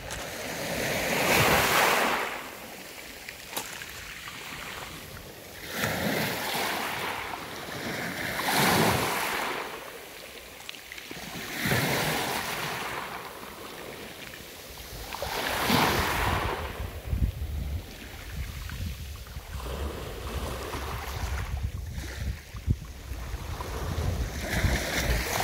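Sea waves wash onto the shore at Lazarevskoye near Sochi in a slow, repeating rhythm, each surge rising into a broad hiss and then draining away, loud and close with some wind buffeting the microphone and no talk.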